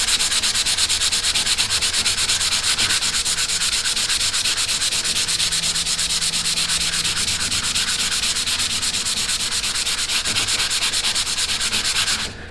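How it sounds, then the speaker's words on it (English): Steady hand sanding of dried wood filler with 120-grit sandpaper, a continuous close, loud scratchy rubbing that runs without pause for the whole stretch, with no voices. "you see how a lot of the residual goes away when you're sanding"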